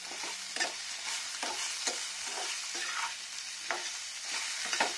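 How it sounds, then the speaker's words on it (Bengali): Garlic and turmeric fry in a pan, a steady hissing sizzle broken by repeated spatula scrapes as they are stirred, close and moderately quiet, with no voices. "রসুনটা একটু ফ্রাই হয়ে যাচ্ছে, দেখুন হলুদটা দিয়ে নিলাম। এবার একটু নাড়া দেবো।"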